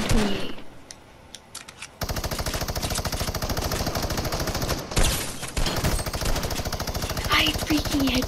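Rapid automatic gunfire in the video game Fortnite sounds in long, dense bursts, loud and close, after a brief quieter stretch, with game effects layered on top.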